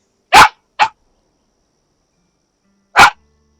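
A dog in the video game Palia barks three times, two quick close barks followed after a long pause by a third, loud and clear with nothing else around them.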